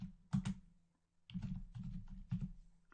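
Quiet bursts of typing on a computer keyboard while entering a line of program code, short clusters of soft key clicks separated by brief pauses.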